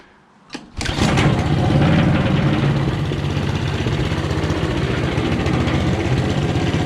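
A Honda GC190 engine on a motorised wheelbarrow fitted with a centrifugal clutch catches with a sharp pop, then settles into a loud, close, steady running chug with a rattly edge.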